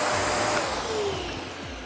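Sinbo SVC 3459 cyclone vacuum cleaner with a plastic dust container running: a loud, steady broadband whoosh of the motor and airflow, close and continuous, slightly fading, with no talk.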